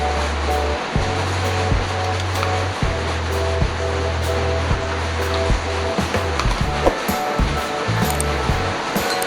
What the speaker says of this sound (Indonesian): Kita tinggal menuangkan saja garam dapur seperti ini.